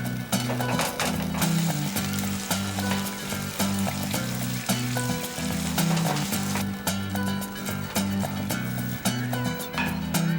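Food sizzles in a pan of pizzaiola sauce while cooking, a continuous frying hiss heard under steady rhythmic background music, with no speech.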